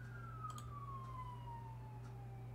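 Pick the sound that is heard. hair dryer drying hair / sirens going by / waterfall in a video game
sirens going by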